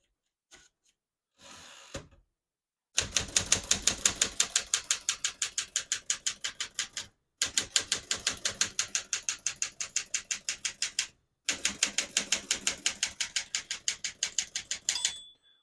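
A 1964 Smith-Corona Galaxie portable typewriter typing at a brisk even rhythm, close and crisp, in three long bursts of keystrokes separated by short pauses, with a few isolated clicks at the start.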